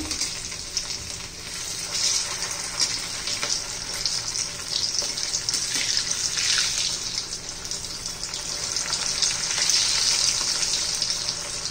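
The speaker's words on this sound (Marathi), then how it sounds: "सर्व बाजून छान असं आपल्याला तळून घ्यायचंय" Egg lollipops frying in hot oil, a steady close sizzle and crackle that swells slightly toward the end, with no talking.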